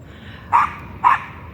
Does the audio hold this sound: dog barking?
yes